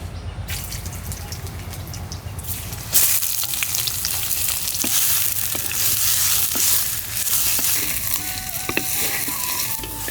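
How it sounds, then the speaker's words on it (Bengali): Ash gourd pieces frying in ghee on a village stove make a loud, close hiss that jumps sharply in volume partway through and then keeps sizzling steadily with scattered pops. "তো ঘিতে আমি এই কুমড়ার টুকরাগুলো ভেজে নিব একটু।"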